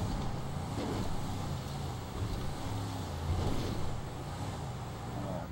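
A car engine in GTA Online roars at full throttle while driving off-road through snow, a sustained loud low drone that rises and falls slightly, with no talking.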